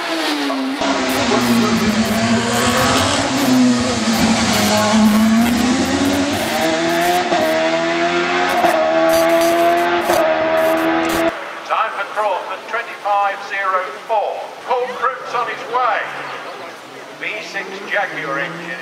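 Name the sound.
race car accelerating at Shelsley Walsh hill climb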